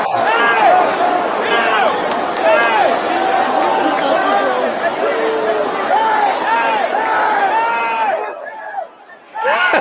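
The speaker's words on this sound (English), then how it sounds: "This is the crowd quickly turning against this dude who's" A packed baseball stadium crowd turns loudly against an ejected Yankees fan, a dense, sustained roar of shouting and jeering voices that drops away near the end.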